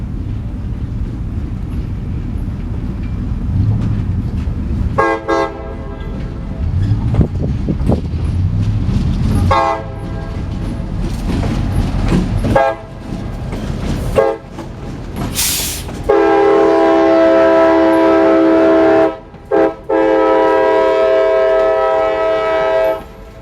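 A freight train with locomotive 2756 leading 0719 passes close by, its engine rumbling loudly while the horn sounds in several long, blaring blasts, the last ones held steady and nearly continuous.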